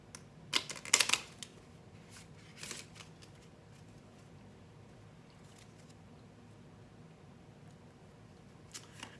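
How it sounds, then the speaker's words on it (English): Meditation cards being shuffled by hand: a quick flurry of crisp papery riffles near the start, a shorter burst around three seconds, then quiet room tone with a faint tap near the end. "Let me shuffle it."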